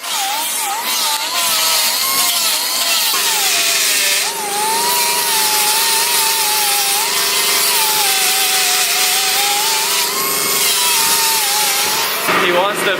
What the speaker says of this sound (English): Dana is about to grind down the emblem on Tim's valve cover